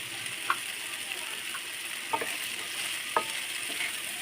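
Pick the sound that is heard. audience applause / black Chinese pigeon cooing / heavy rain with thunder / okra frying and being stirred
okra frying and being stirred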